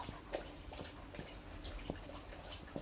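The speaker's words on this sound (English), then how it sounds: "Slopping water behind me." A German shepherd laps and slops water from a bowl nearby, giving quiet intermittent wet splashes and drips at an irregular rhythm, faint and close against a low room hum.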